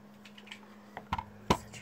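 Keys clack on a plain computer keyboard in a few sparse taps, close and fairly quiet over a low steady hum, with one sharper keystroke near the end.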